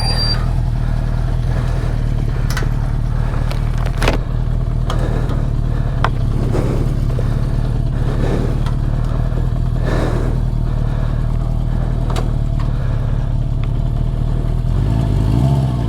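A 1973 Honda CB350 Four motorcycle idles steadily after being kickstarted, a constant low engine hum with light mechanical ticking and clatter, close and continuous.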